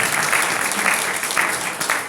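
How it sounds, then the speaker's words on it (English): An audience at a 2018 candidate forum applauds the candidates. The clapping is loud, dense and steady, with a few sharper claps standing out near the microphone. "Let's give our candidates a round of applause"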